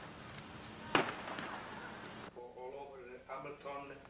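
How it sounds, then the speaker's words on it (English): Fireworks at a 1991 Madonna del Monte feast crackle and pop, with one sharp burst standing out. The festival noise fades into a voice speaking over faint background sound. "The feast ends with a dramatic display of fireworks."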